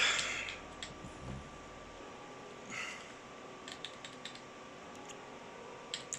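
Typing on a Dell Vostro laptop keyboard, faint scattered key clicks over a low steady hum, with a few brief rustles.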